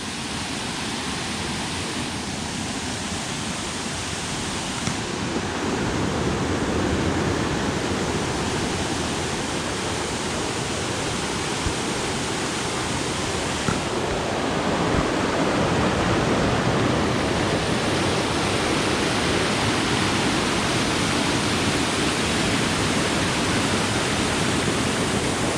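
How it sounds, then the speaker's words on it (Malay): Waterfall at Fraser Hill, heard from the area above the falls as a constant broad roar of rushing water, loud and unbroken throughout with no talk. "Oh, ini kira kawasan atas air terjun ni."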